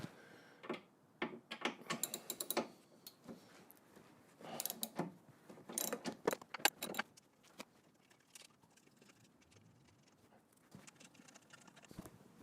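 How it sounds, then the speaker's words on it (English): A socket wrench undoes 13 mm bolts on the engine gearbox mount of a 1.6 HDi Peugeot Partner, quick bursts of metallic ratchet clicks and rattles close by, separated by quiet pauses, with no talking. "Next thing is to undo the 2 bolts, that one and that one. These are 13 millimeter socket."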